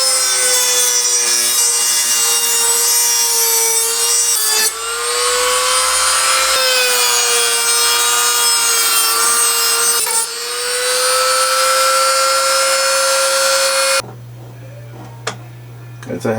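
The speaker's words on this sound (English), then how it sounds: "now I'm actually sawing off the rest of the screw" A hand saw cuts through the protruding end of a screw in a heavy diorama base, a steady rasping stroke with shrill metallic ringing that pauses briefly between passes, then gives way to quieter handling noises.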